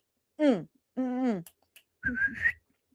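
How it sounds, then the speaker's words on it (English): A person whistling a short tune up close, three sustained notes with slight pitch wavers, the first two low and the last higher and shakier, separated by brief pauses in an otherwise quiet room. "I can't whistle very well right now"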